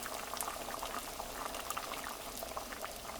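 A pot of pasta fagioli soup with basil bubbles at a gentle simmer, a continuous close burble of popping bubbles that is fairly quiet and heard without talk.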